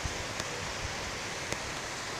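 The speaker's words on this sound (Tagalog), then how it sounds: "Naririnig nyo ba guys yung ulan?" Rain falls steadily outside as a soft, even hiss with a few faint drips, fairly quiet and unbroken for a couple of seconds, with no voices.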